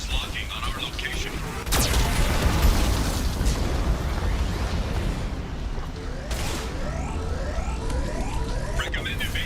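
Geth cannon blasts in Mass Effect 2 roar continuously, with heavy booms and crackling bursts layered under a synthetic warning voice and background game effects.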